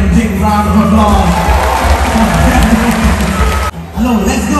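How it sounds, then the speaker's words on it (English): An audience claps and cheers at the California sea lion show at Singapore Zoo, a loud, dense and continuous wash of applause with an amplified voice over it that dips briefly near the end. "Big round of applause."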